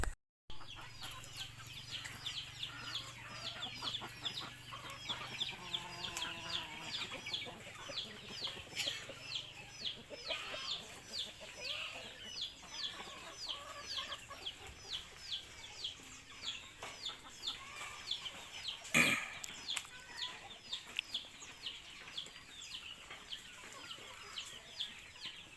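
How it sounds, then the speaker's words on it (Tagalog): Chickens raised as future egg layers cluck and murmur in a farmyard, a run of soft, close calls repeating throughout, with one sharper squawk near the end and no talking. "Merong isang nakalabas na manok sa doon."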